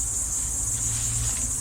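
Continuous low droning of honeybees working combs in a hive box, close and unbroken, with a bright insect chirr running above it.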